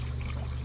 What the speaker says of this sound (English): Now I'm going to put water on here